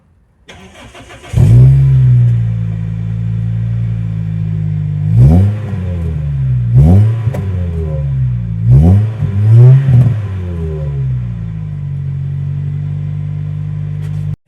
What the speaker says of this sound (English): So as you can tell from that sound clip, it is actually still quite quiet. It's not a noisy exhaust on it at all.